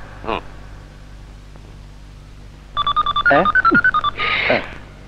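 A quick series of electronic keypad tones beeps in rapid rhythm, followed by a ringing tone, with a brief voice just before.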